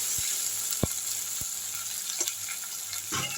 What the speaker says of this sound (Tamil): தக்காளி நல்லா வதங்கிடுச்சுங்க